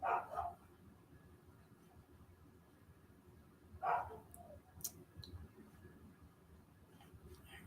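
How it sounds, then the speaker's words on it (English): A few dogs bark upstairs in a home, with two short bursts of muffled, fairly faint barking spaced a few seconds apart over a low background hum. "And that little wolves are barking upstairs"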